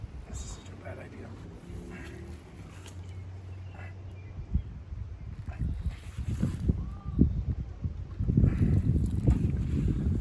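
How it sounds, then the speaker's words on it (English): Outdoor wind buffets the microphone in low, irregular gusts that grow stronger and rougher toward the end, with people talking and moving around close by. "Might be too windy."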